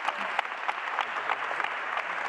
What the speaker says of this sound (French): Enfin, vous pouvez aussi applaudir, comme vous avez applaudi Mario Stasi